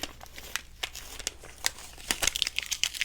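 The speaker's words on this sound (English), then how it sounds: "Guess I could tear these labels off." Labels are torn and crinkled off a cloth book cover made with quilt lining, giving close, quiet, irregular ripping and rustling over a few seconds.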